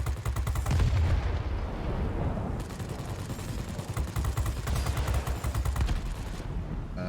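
Aircraft guns chatter in rapid bursts throughout a World of Warplanes air battle, with dense repeated firing that pauses briefly and then resumes, loud and close under a steady engine drone.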